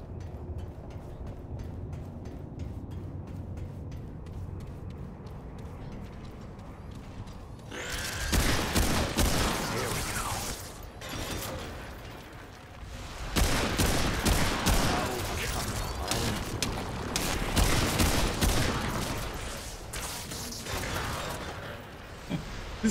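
Sustained automatic gunfire in Remnant 2 rattles in long, loud volleys after a quieter opening, with dense bursts continuing through most of the stretch.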